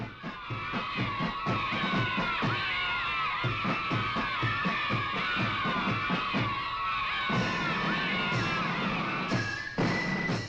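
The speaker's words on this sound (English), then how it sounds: "A sea of healthy young faces, cheering voices and waving flags greeted the king." A large crowd of children cheer and shout continuously at an outdoor 1963 rally greeting the king, a dense, loud wash of high young voices with rhythmic pulses that sounds like it comes from a vast throng.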